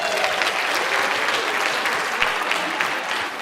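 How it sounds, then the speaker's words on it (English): Sustained, dense applause from an audience at an improv comedy troupe show, a steady roar of many hands clapping close and loud for several seconds. "Give yourselves a round of applause."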